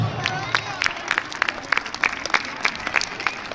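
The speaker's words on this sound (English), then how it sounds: "Let us give all of them a big round of applause." School audience clapping for student performers at a Republic Day celebration, a lively round of applause with distinct sharp claps standing out over crowd babble.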